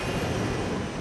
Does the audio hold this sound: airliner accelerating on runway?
yes